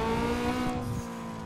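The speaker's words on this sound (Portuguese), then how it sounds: "Primeiro drift realizado" A VW Up TSI drifting in Need for Speed: Underground 2, its engine holding a steady harmonic drone while tires squeal loudly and continuously, then easing off as the slide ends, with no talk.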